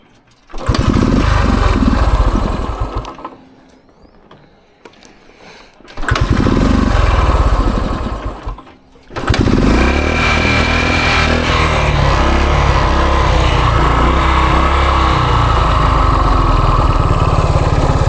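A 50-year-old Honda enduro motorcycle engine runs loud and close, drops away twice as it dies, then revs back up and keeps running with a rough, uneven buzz.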